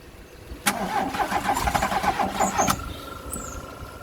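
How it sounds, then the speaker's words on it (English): The engine of a classic VW Scirocco, started for the first time in six years, cranks repeatedly and sputters as it tries to catch, heard close and with no talking. "It must be getting fuel because it's firing, or attempting to fire."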